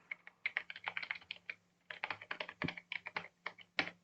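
Quiet, close typing on a computer keyboard while coding in C++, with irregular bursts of key clicks separated by short pauses.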